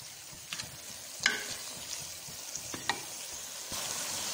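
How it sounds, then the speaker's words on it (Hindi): Kachnar keema being fried in a pot, a low steady sizzle broken by a few scraping stirs of a spoon, fairly quiet and close, with no talk. "अब हमने इसकी अच्छे से भुनाई करनी है,"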